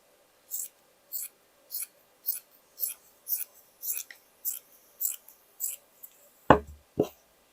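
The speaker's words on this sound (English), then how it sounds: "let's cut another one" Scissors cut through fabric in a regular series of about ten short, crisp snips, close and fairly quiet, ending with two heavier thuds.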